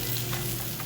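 Food sizzles and fries steadily on a cooking surface at a restaurant table, a dense, continuous crackling hiss with a low hum beneath and no speech.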